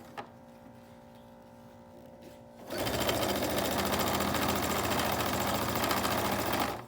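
A sewing machine stitching face mask straps, quiet at first, then running fast and steady for several seconds with a dense mechanical whir up close, slowing at the end.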